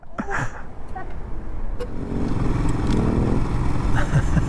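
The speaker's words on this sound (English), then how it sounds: "The Scrambler, your bike is nice and loud." Loud Ducati Scrambler motorcycle engine running close by on a dusty group ride, a rough, throaty drone that builds and holds, with some clatter over it.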